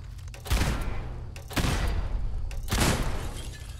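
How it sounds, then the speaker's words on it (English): Three heavy gunshots in the Fallout game with the Horizon mod, about a second apart, each a loud booming blast with a long rumbling tail and no voices. "Three shots to take that down."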